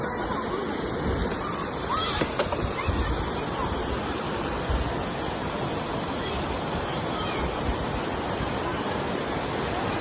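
A river stream flowing nearby, heard as a continuous broadband rush of water that stays steady and fairly loud, with faint background activity and no clear talk over it.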